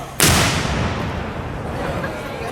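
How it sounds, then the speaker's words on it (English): A single loud cannon blast at a heritage festival booms suddenly, then rolls off into a long, fading rumble. "they're going to start to fire the cannons"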